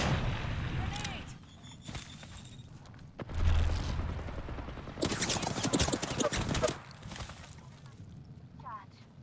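A grenade blast and gunfire ring out in a shooter video game, bursts of sharp cracks and rumbling explosions, mixed with voices talking and other game effects.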